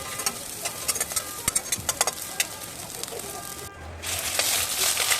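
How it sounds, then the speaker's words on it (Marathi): Ginger, a curry leaf and coriander frying in a pan, with crackling pops and stirring clicks over a constant sizzle, then a brief drop before a louder, denser hiss. "अद्रक, कढीपत्त्याचं एक पान आणि कोथिंबीर. ते व्यवस्थित फ्राय करून घेऊया."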